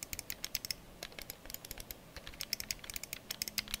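Side buttons on an XPG Slingshot lightweight gaming mouse are pressed in quick succession, producing a dense run of crisp, close plastic clicks in irregular bursts.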